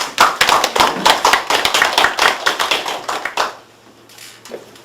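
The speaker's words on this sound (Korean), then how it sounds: "박수로 받으겠습니다" A small lecture audience claps to welcome a former university professor, a few distinct rhythmic hand claps close by that stop abruptly, leaving near silence.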